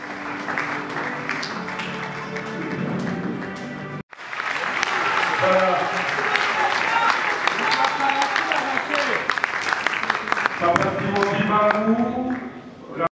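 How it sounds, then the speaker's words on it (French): Crowd applauds loudly at the official premiere of a film screening in a hall, sustained clapping that breaks briefly and resumes, with voices and shouts rising over it. "Si on peut applaudir très très fort avant que le film"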